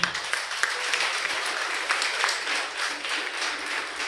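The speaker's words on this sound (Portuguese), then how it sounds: "Dá uma salva de palmas para Jesus." A church congregation applauds continuously, a dense wash of many hands clapping at a steady level for several seconds.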